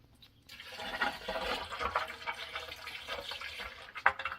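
Half-and-half distilled white vinegar and water poured through a funnel into an air conditioner condensate drain, a near, steady liquid gush and gurgle lasting about four seconds with no talking.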